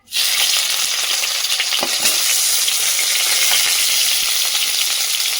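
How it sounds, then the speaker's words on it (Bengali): Chopped onions drop into hot oil in a wok, bursting straight into a loud, steady hiss of frying that carries on close and unbroken, with faint stirring clinks and no talking. "এই গরম তেলের মধ্যে এখন আমি দিয়ে দেব পেঁয়াজ কুচি"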